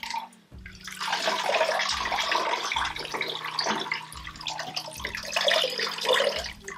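Running tap water splashes steadily as a garment soaked with conditioner is rinsed, with wet sloshing and dripping as the fabric is handled close by.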